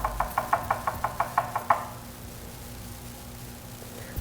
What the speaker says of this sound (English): just dip it into the chocolate, roll it, and just give it a light tap